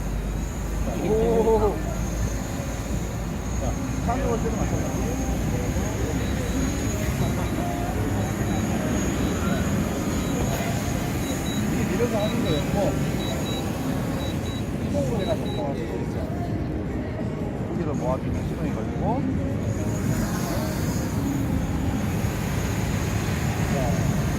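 A camera drone takes off and climbs with a steady, whirring rotor hum that carries on throughout. People talk nearby over the constant noise of the drone.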